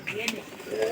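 Pigeons coo softly close by, a short low murmuring call under a faint background hum.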